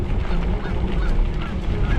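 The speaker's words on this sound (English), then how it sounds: "We got 2 Canada geese here." Two Canada geese honk close by near water in early spring, loud harsh calls overlapping in a rough, continuous burst.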